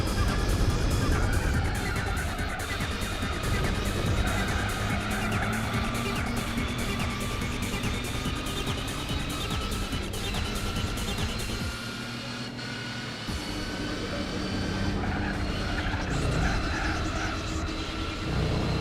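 A pickup truck fitted with a racing exhaust in Gran Turismo 4 drones steadily and aggressively throughout, a continuous loud engine note with harmonic layers that shift slightly in pitch as the truck runs.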